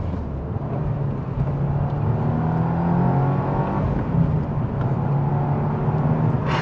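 A 2025 Subaru WRX Premium sports sedan on the move, its engine and stock exhaust giving a steady, fairly quiet drone with a low rumble and faint rising harmonics, mixed with constant road noise and no talking.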